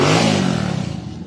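A pushrod motorcycle engine with an aftermarket timing gear, tmx155 type, revs loud and close with an open, raspy exhaust, a strong blip that drops off into a rough, throbbing idle.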